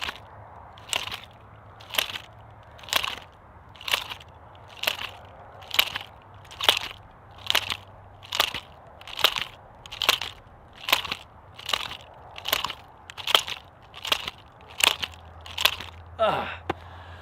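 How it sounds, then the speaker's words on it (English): Nunchaku snap sharply in a martial arts technique, about seventeen crisp, evenly spaced cracks roughly one per second, close and distinct with quiet gaps between and no talk. "We want to also hear the snap with the nunchaku"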